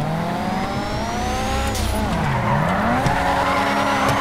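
Car sliding with a long tire squeal in GTA 5, a Furore GT with a stage 3 engine, the squeal wavering in pitch over a steady engine drone, loud and continuous throughout.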